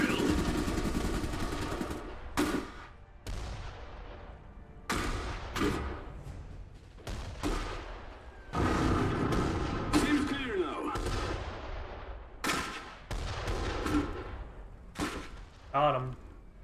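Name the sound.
gunfire from units in the video game Iron Harvest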